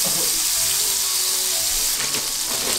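Butter hisses and sizzles in a hot frying pan, a steady, bright frying noise running without a break and with no voices over it.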